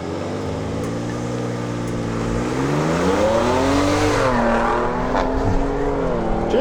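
A Ford Raptor and a VW Golf R accelerate hard side by side in a drag race, loud close engine roar climbing steadily in pitch with gear changes, alone without talk.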